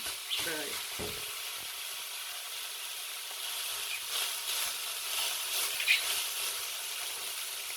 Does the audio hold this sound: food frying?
yes